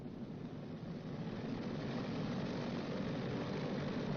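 A WWII B-29 Superfortress piston engine, number 1, runs up toward 2,000 RPM, giving a loud, steady propeller-engine roar that builds slightly and holds throughout, with no talk.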